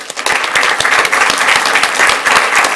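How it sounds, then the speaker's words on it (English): Audience applause fills a school board meeting honoring parent volunteers from a high school, steady and dense clapping from a crowd throughout, loud and close. "we can give them a round of applause for their help this evening."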